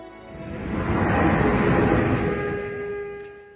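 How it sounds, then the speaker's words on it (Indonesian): A Jakarta MRT train runs on its rails, a broad rumble that swells to a peak and then fades over a few seconds. Steady whining tones sit on top, and no one speaks. "Sekarang kita punya MRT."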